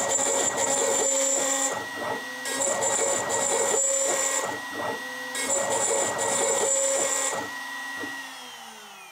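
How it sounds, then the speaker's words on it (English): A CNC router runs a clearance toolpath with a 1/8 inch bit, a steady machine whine with motor drone. The cutting comes in bursts separated by short pauses and stays loud and close, with no voices. "we'll go ahead and run to the CNC and run this toolpath now"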